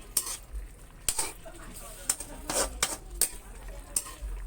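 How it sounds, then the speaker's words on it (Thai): Metal utensils scrape and clink against an electric frying pan in an irregular rhythm over a faint sizzle of stir-frying squid, close and fairly quiet. "พัดใส่กระทะได้จ้ะเด้อ"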